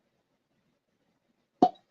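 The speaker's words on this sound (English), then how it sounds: "Solid cork pop." A single short, hollow pop as a synthetic cork with a copper top is pulled from a bottle of Drumshanbo gin, near and crisp after a silent pause.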